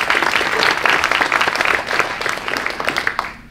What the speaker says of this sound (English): I really want to give a round of applause for them